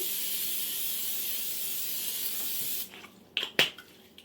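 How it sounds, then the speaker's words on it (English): Cooking spray hisses continuously onto a 13 by 9 baking pan for about three seconds, followed by a couple of light clanks and brief taps. "Now we're going to spray our 13 by 9 baking pan."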